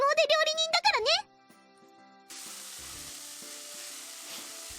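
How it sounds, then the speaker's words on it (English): Eggs dropped into a frying pan in a visual novel game, a steady close hiss of sizzling that begins after a high-pitched voice speaks briefly and a short quiet pause. "our skilled cook here went on to simply drop eggs into the frying pan"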